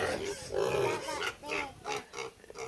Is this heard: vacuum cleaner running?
no